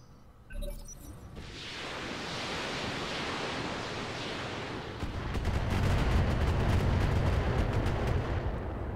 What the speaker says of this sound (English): Shooting right through the rock.